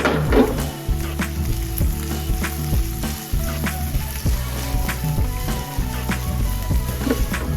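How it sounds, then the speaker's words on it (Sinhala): Fish pieces fry in hot oil, a dense continuous sizzle close up, punctuated by sharp pops and occasional stirring knocks throughout. "මාළු කැල් ටික හොඳටම බෙද ගන්න ඕනේ."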